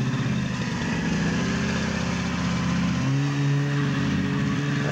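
A 1972 Olympique snowmobile engine runs steadily as the machine circles a snowy yard, a continuous loud buzzing drone that shifts pitch slightly as it goes, with no talking.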